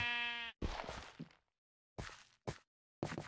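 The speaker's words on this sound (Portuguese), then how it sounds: "Agora é hora da ovelha." Minecraft sheep bleat in a few short, close, clear cries from the game, separated by brief silences and soft thuds, with no talking.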